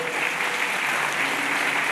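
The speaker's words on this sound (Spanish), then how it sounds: "Dele ese fuerte aplauso al Señor." Strong, dense applause from a church congregation, steady and loud throughout.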